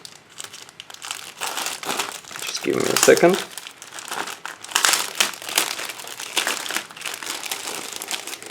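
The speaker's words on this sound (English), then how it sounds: "These are separated into 2 plastic bags. So let's open it." Two plastic bags holding the plastic sprues of an Eduard 1/32 scale Legion Condor model kit being opened, crinkling and rustling loudly and close up throughout, with a brief spoken remark in the middle.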